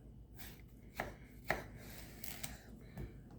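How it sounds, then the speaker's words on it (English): A knife slices a cucumber in half on a cutting board for a tomato cucumber salad, a few sharp separate chops spaced apart at close range, with quiet background otherwise. "Now, we're going to make 1 cut to cut it in half."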